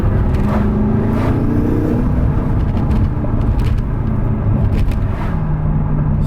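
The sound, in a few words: BMW M6 twin-turbo engine revving with BMS intakes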